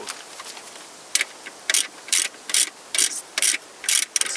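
A bolt at the engine-gearbox joint of a Toyota Corolla is tightened with a ratchet, giving a close series of about ten quick clicking bursts in an uneven rhythm, with no talk over it.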